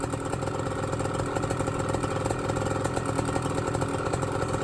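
A BlackHawk Titan 210 paramotor engine with a diaphragm carburetor idles during break-in, a steady, loud, buzzing two-stroke drone with a fast even pulse and no pauses.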